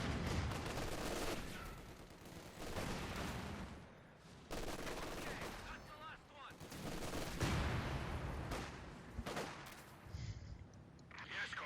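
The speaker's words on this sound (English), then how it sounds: "he's likely just going to mortar it with high explosive rounds." Mortar high explosive rounds and battle noise in Company of Heroes 2, with repeated heavy blasts and crackling gunfire in dense waves throughout, a commentator talking over parts of it.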